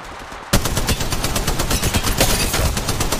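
Rapid automatic gunfire from the mobile shooter game Apex Legends Mobile bursts in suddenly and keeps rattling in loud, dense volleys with no pause.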